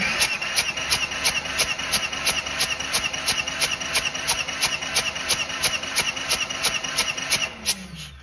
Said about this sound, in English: So I'll go crank this thing over, keep an eye out.